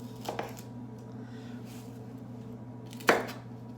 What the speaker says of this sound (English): I'm going to cut this one because it's fairly big. I'll cut it into 3s